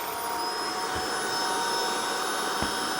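Vacuum cleaner with a rotating brush running, a steady loud whine with a rushing airflow hiss and a couple of faint low bumps, heard alone throughout.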